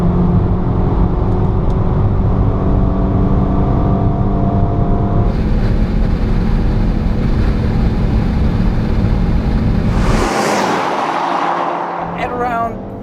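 Peugeot 308 GTi 270 with its 1.6-litre engine pulling hard on the road, a steady loud engine drone climbing through the revs, then a gear change and a fresh surge, with a person talking over it.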